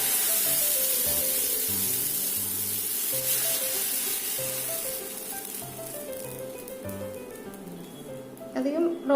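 Oil heating in a pan for bread uttappam gives a steady, broad hiss of sizzling throughout, while a voice talks over it and a brief clatter comes near the end.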